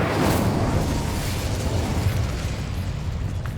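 A fire spell cast in the video game Hogwarts Legacy gives a loud, sustained burst of roaring flame that is strongest at the start and holds steady throughout.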